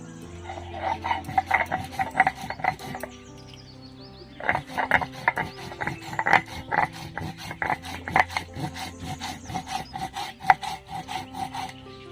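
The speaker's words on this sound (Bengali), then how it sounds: "এবার আমি জিরেটা বেটে নিচ্ছি" Cumin seeds ground by hand on a grinding stone, a steady series of rough rasping, rubbing strokes in repeated bursts, close and fairly loud with no talking.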